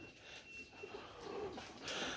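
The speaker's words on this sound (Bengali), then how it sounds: "দেখেন টপ ক্লাস স্ট্যান্ডিং ইম্পোর্টেড নর কবুতর এটা" An imported Pakistani male pigeon gives soft, low cooing, a few muffled calls close by against quiet background noise.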